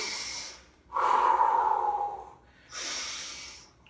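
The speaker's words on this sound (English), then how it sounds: "Let's get back to just breathing." Deep breaths from a group of drama students after spinning around a theatre room, two long loud exhalations with a short pause between, clear and close with no talking.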